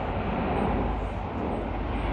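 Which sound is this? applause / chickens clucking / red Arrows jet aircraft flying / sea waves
red Arrows jet aircraft flying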